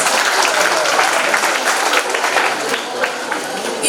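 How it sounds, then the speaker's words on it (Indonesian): Audience applause welcoming a facilitator at a school event for a Catholic junior high school, a dense steady clapping that stays loud and close for the full four seconds. "tepuk tangan dulu untuk Bapak Frans"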